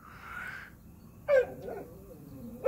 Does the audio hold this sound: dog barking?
yes